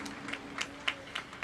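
Sparse, faint clapping from a high school graduation audience, a handful of separate claps spaced about a third of a second apart, with distant murmur beneath and no one speaking.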